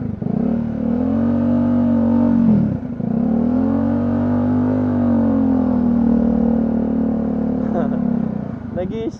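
A Bajaj Dominar 400 motorcycle engine with a low battery idles loudly and unevenly, its pitch sagging and dipping as it falters toward stalling, with a few clicks near the end.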